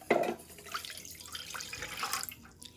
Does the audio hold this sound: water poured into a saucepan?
yes